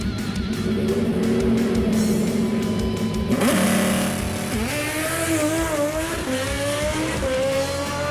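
1981 Chevy Camaro on a drag strip making a full pass, a loud roaring engine that climbs through several gear changes, close and steady, with no talking over it.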